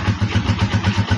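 A motorcycle fitted with a kill switch cranks over, its starter churning in a quick, even rhythmic pulse, loud and close with no talking.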